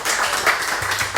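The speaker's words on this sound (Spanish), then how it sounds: "un aplauso." An audience applauds at the close of a two-hour talk and discussion session, a dense, steady wash of clapping from a crowd, fairly loud throughout with no voices over it.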